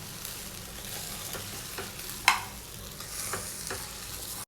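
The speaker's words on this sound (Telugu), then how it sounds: "నెక్స్ట్ మనం ఒక గరిటె తీసుకొని ఇదంతా కూడా బాగా కలిసేటట్టు మిక్స్ చేసుకోవాలండి." A ladle mixes lemon rice in a pan. The scraping and stirring is close and steady under a faint continuous sizzle, with one sharp clink partway through and no speech.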